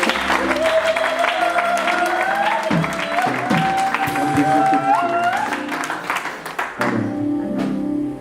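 A church congregation claps and cheers loudly in praise of the Lord, a dense, steady burst of applause mixed with voices and music, then slightly thinning toward the end.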